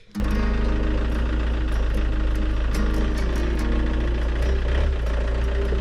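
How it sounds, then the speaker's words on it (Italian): A camper van engine turns over and quickly settles into a loud, steady, rumbling idle close by, running continuously throughout. "mettiamo in moto e ci spostiamo"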